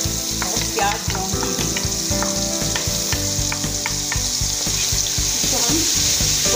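Browned onion and garlic paste sizzles and fries steadily in a pan for fish salan, with stirring scrapes throughout and no talk.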